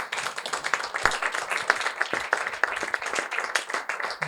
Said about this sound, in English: So a hand clap for her.